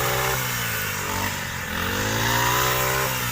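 A small two-stroke brush cutter drones steadily and loudly cutting rice, its pitch dipping briefly midway before rising again.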